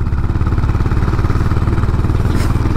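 Honda CB350 H'ness motorcycle engine with the throttle opened while riding, a loud, steady low thumping beat with even rhythmic pulses throughout, close and dominant.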